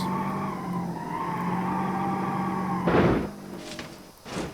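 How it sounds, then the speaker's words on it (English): A 2007 Toyota Camry drifts in the BeamNG driving game, its engine holding a steady drone before a short burst of tire screech and a couple of thuds near the end. "But yeah, this thing drifts."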